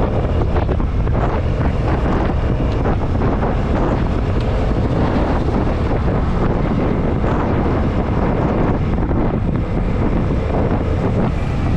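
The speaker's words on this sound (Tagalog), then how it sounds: "medyo malakas ang hangin" Strong, steady wind at a seawall roars and buffets across the microphone throughout, a dense constant rumble with no voices.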